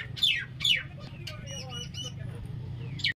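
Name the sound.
bird squawking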